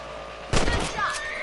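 A gunshot fired at rabbits in the Western video game Red Dead Redemption: one sharp, loud crack rises out of quiet ambience partway through, followed by a ringing, reverberant tail and a faint whistling tone.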